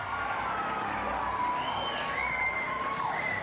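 Casuarina supporters at a football grand final make a steady, distant crowd roar with scattered cheers and whoops, swelling slightly while a commentator talks over it.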